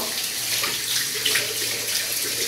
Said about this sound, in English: You want to rinse your brush off in cold water.